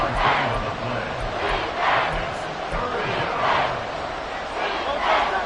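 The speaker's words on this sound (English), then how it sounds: "The Arrowhead crowd in full roar." A packed football crowd at Arrowhead Stadium roars steadily and loudly throughout, a dense sustained wall of cheering that swells in waves with no clear speech on top.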